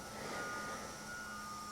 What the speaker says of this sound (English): That's the recycling trucks.